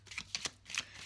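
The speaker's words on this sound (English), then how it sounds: "I am shuffling the Universal Weight Pocket Tarot deck." A Universal Waite pocket tarot deck is shuffled close up, giving a quick run of soft papery riffles and card snaps over about a second.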